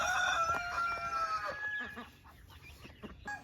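Chickens on a farm clucking and crowing near the microphone, a busy overlapping flock that is loudest at first and then settles into scattered clucks.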